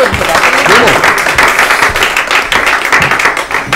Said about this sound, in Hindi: इनके लिए ताली हो